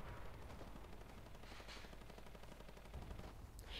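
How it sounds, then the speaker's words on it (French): Gunfire in the video game Fortnite, a dense and steady rattle of rapid shots running throughout, fairly loud and with no talking over it. "Il y a quelqu'un qui lui tire dessus."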